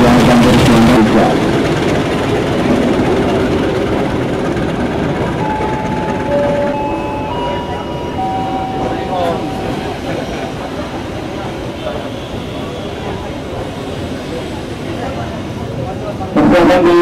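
A Jabodetabek commuter train bound for Jakarta pulls away from platform 3 with a loud, steady rolling rumble and metallic rattle that gradually eases. A station announcement voice sounds over it.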